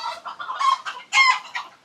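Black chickens clucking in Sheki, Azerbaijan, a string of close, lively clucks and squawks in irregular bursts, with one louder call near the middle.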